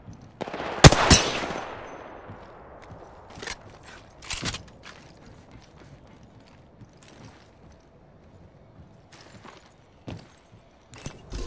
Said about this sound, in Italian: I nemici mi stanno sparando.